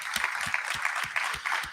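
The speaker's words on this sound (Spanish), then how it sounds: "Aplauso para esto, es muy importante." A crowd at a summit for democracy in Cuba claps in a steady, rhythmic beat, each sharp clap evenly spaced and fairly loud throughout the brief stretch.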